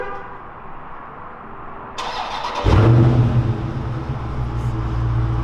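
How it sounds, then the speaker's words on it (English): A 2019 Dodge Charger Scat Pack, a 485-horsepower car, starts remotely with a click and a short whine, then its exhaust bursts into a loud, deep roar and settles into a throaty idle nearby. "just because I love this exhaust, we're gonna go ahead and remote start it"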